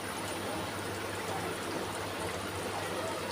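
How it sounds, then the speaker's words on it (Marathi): Steady trickling of water poured into a simmering pot of kurdai curry, a continuous close liquid stream with no voices. "मी याच्यामध्ये थोडंसं पाणी घालत आहे"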